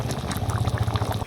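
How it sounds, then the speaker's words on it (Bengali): Dhoka curry simmering uncovered in a pan, giving a steady close bubbling and gentle liquid churn with no talk. "খোলা রেখে ফুটিয়ে নিতে হবে।"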